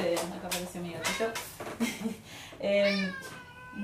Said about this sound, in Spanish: acá apareció mi gatito.